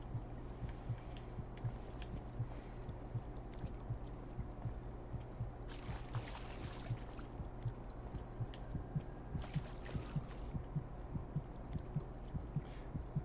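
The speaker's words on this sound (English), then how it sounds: "There's a heartbeat sound effect that's been in my ears for most of this, and it is increasing in intensity." A slow, regular heartbeat thud pulses steadily under a low ambient hum in the Silent Hill: Downpour video game, faint but continuous, with brief bursts of other game noise and no talking.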